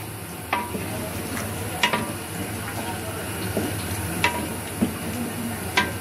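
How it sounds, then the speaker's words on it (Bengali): Vegetables and jackfruit seeds are stirred in a pot with sparse, sharp clicks of the spoon every second or so over a steady low cooking hiss and hum. "তো সবজিগুলো আমি একটু নেড়ে ছেড়ে দিব।"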